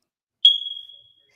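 A single clean electronic beep, a short high steady tone that sounds alone against silence and fades out after about half a second.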